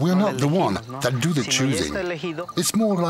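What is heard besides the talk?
No distinct noise like a dog, phone or traffic.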